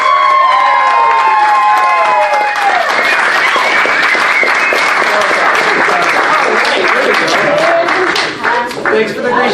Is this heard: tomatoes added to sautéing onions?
no